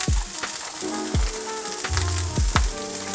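Asparagus frying in a hot pan gives a steady, close sizzle, broken by a few sharp knocks as the spears are rolled around.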